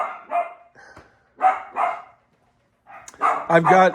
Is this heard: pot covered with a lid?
no